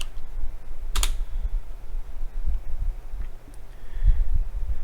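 A computer keyboard being typed on in short bursts of quick clicks, with one sharp louder key strike near the start, with no talking.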